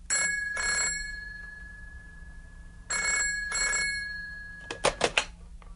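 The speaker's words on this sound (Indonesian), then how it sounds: "Iwan akan menerima telepon di rumah keluarga Scott" A home telephone rings with two double bursts of bright electronic trills, close and clear, followed by a few short clicks as the receiver is picked up.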